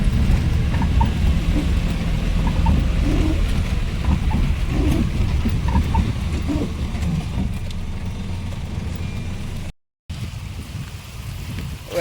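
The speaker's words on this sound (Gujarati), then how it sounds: "આજે પણ વરસાદ ચાલુ" Heavy rain falling outdoors, a steady broadband hiss of downpour with low rumbling undertones, loud and continuous, briefly cut off near the end.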